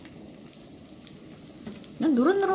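Japchae mandu dumplings frying in hot oil in a pan over high heat give a faint, steady sizzling hiss. A brief tonal, voice-like sound rises over it near the end.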